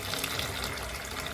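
Water runs steadily into a container, likely from a tap, while preparing an authentic Jamaican breakfast of fried dumplings, plantain and jack mackerel; a continuous broadband gush fills the short moment without speech.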